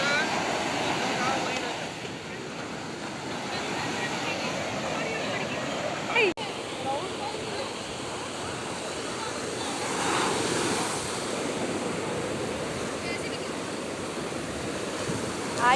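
Sea waves break and wash onto the beach at Puri in a steady, loud roar with surges, mixed with wind buffeting the microphone, while people talk over the surf.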